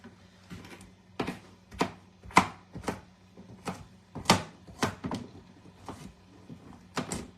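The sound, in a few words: knife dicing carrot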